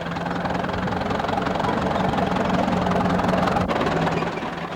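A crawler tractor's heavy engine runs steadily with a deep, rumbling drone and a faint knocking rhythm, sustained and unbroken throughout.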